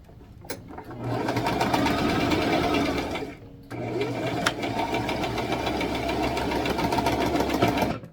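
A sewing machine stitches fabric for a tutu in two fast, rattling bursts, close and steady, separated by a short pause, with no talk over it.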